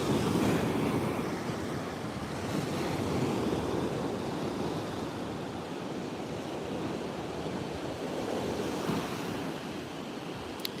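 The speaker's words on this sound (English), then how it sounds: "I just love listening to these waves, watching them." Ocean waves wash onto a Maui shore at dawn, a steady broad roar of surf with wind noise across the microphone and no speech.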